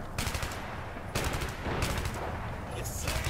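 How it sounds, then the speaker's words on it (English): German troops return small-arms fire in the Men of War game, set at Kasserine Pass, with repeated rattling bursts of rifle and machine-gun shots at moderate distance. "Some Germans returning fire with small arms."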